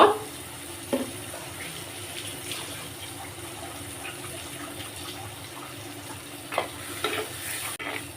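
Tomato paste frying in oil in a pan for a bitter gourd curry gives a faint, steady sizzle with soft stirring scrapes and a few light clinks of the spoon against the pan.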